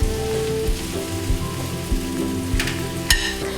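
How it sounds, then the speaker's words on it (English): Prawns sizzle as they go into a pan of cooked tomatoes for a white aubergine dish, a steady broadband frying hiss with a few soft stir bumps and brief spatters, close and continuous. "now we're going to add in our prawns"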